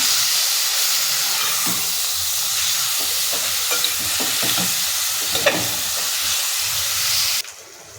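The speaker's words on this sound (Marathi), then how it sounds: "आता ह्याच्यामध्ये आपण किमा करून घेतलेला आहे ते मटण टाकून घेऊया आणि मसाल्यामध्ये व्यवस्थित मिक्स करायचं" Minced mutton stirred and frying in masala in a hot pan makes a loud, steady sizzle and hiss with scraping spoon strokes, close up, which cuts off suddenly near the end.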